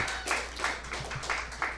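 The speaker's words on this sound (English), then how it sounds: "Let's give him a good round of applause." A small podcast audience claps for a guest at a live recording in an Austin store, a sparse, uneven patter of individual hand claps over a steady low hum.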